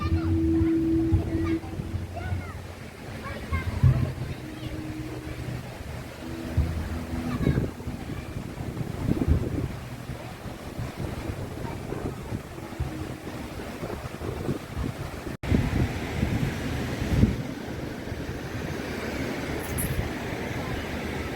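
Steady wind and lapping sea waves at a beach in Palawan roll on for the whole stretch, with a voice talking over them now and then.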